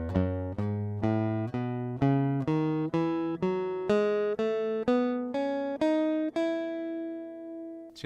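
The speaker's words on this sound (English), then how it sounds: "I'm just going to play some scales up and down just to give you an idea of what this sounds like" Single notes on an acoustic guitar with a Schertler AG6 magnetic pickup climb up a scale one by one, each plucked and ringing briefly, clean and alone, with the last note left to sustain.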